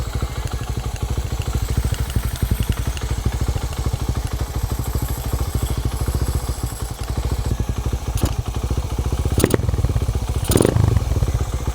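A motorcycle engine idles steadily with a deep, throaty aftermarket Tsukigi exhaust burble, loud and close, with a few sharp clicks near the end.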